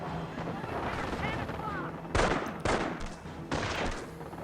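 Gunfire and artillery blasts from the World War II strategy game Company of Heroes, set at the Battle of the Scheldt: three sharp, loud bursts stand out over a steady battle din, with faint voices in the background.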